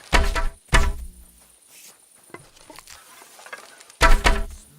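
Arrows striking an archery target in KCD2, heard as a few loud, close thunks: two in quick succession at the start and another near the end, with quieter soft knocks and rustles between.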